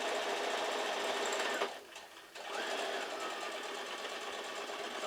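Sewing machine running steadily while stitching quilt fabric for a quilt block, a loud continuous motor whir that dips briefly in the middle before resuming.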